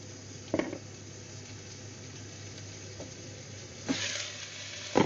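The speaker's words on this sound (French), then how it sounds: "Je vais le faire cuire avec ma viande" Soft, even sizzle of onion frying with meat in a pan, with a few brief scraping or clattering bursts from stirring, fairly quiet and with no voices.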